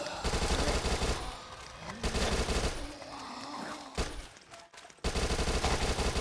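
SMG gunfire in the PS4 zombie shooter Dead Nation, dense rapid bursts of automatic fire alternating with short gaps and other game sounds, loud and close.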